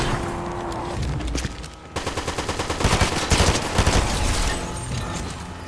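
Rapid bursts of video game gunfire crackle in a dense, rattling stream, heavy automatic shots piling up loud and close for several seconds.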